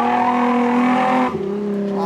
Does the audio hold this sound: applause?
no